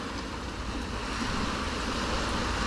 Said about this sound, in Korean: 빗소리가 어마어마하게